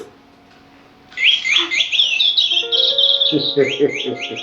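Bright bird chirps and warbling whistles in a quick run, fairly close, following a quiet start with faint background hum.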